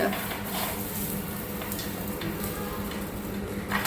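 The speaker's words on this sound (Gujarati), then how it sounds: "ને મરચા વઘારવાનું કામ હાલે કઈ" Loud, steady sizzling of chilies crackling in hot oil, a dense frying hiss with occasional spatters, close by.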